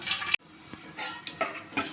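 Spices tempering in hot oil in a pan for an Ongole-style horse gram rasam, with a steady close sizzle, a brief cutoff, then stirring and clinks of utensil against the pan.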